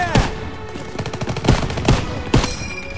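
Machine gun fire in the World War II shooter Call of Duty: WW2 during Operation Cobra, with several loud separate bursts and single cracks at irregular intervals over a battlefield background.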